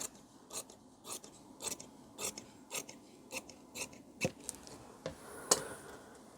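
Tailor's scissors snip through blouse fabric in a steady series of about a dozen crisp, close cuts, evenly spaced, with a light rasping slide between snips and no talking.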